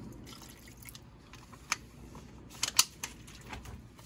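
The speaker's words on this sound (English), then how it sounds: "I'm finna add just a little bit more water to there, because, like I said, we like ours grindy." A little water is added to Coney Island sauce, making a few faint, scattered drips and small splashes against a quiet kitchen background with no talking.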